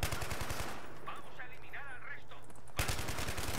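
Rapid automatic gunfire from a weapon in the video game Battlefield 3, a fast regular burst at the start, a pause while someone speaks, then another rapid burst to the end.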